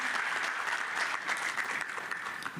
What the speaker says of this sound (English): Another round of applause for His Excellency Omar.